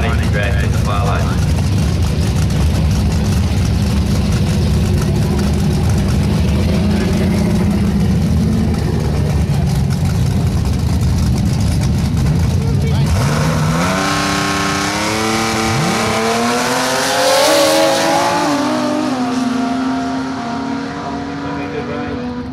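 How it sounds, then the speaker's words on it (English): A drag racing car with a 265 Hemi six-cylinder engine in the far lane at a 6 Banger Nationals drag meet, a loud steady engine roar that shifts into rising, revving gear changes partway through. "the 265 Hemi Power running the drag in the far lane"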